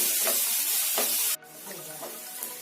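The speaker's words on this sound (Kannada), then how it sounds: "ಮಸಾಲ ಎಲ್ಲ ಸ್ವಲ್ಪ ಎಣ್ಣೆನ ಚೆನ್ನಾಗಿ ಫ್ರೈ ಆಗೋದಕ್ಕೆ ಬಿಡಿ" Ground masala paste with onions frying in oil in a pan on low heat, a steady broadband sizzle with a few soft stirring scrapes and a brief dip partway through.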